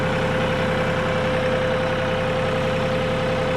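Engine of a machine with pallet forks running at low RPM, a steady continuous drone with an even hum and no change in pitch, close and loud, with no talking.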